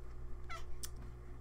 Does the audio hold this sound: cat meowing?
yes